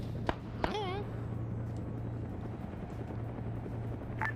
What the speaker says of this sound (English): there goes that chopper